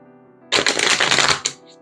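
A tarot or oracle card deck riffle-shuffled up close, a single dense burst of crisp papery flutter lasting about a second, ending with a soft snap as the cards settle.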